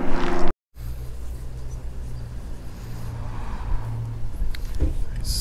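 A car rolls slowly under church scaffolding at Binham Priory, its low steady engine hum and road rumble close and continuous after a brief cut.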